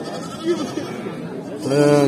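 A young goat or lamb bleats at an outdoor livestock market, with a few short calls under nearby talk and a louder, sustained bleat at the end.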